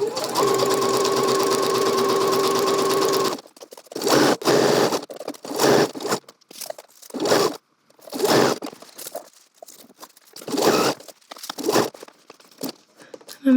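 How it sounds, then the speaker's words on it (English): A sewing machine stitches around a dress pocket bag, running in one steady, loud burst for about three seconds. Short, uneven bursts of machine noise and fabric handling follow as the fabric is pivoted. "Put the presser foot back down, and then continue stitching."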